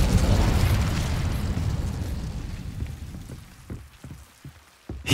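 The Incendio fire spell is cast in Hogwarts Legacy, releasing a loud roaring whoosh of flame that slowly fades, followed by scattered crackles and small pops and a sharp burst at the very end.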